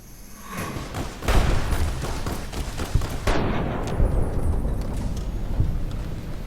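Shotgun blasts in the video game Fallout: New Vegas, several loud booming shots spaced a second or so apart with echoing tails, close and dominant with almost no talk.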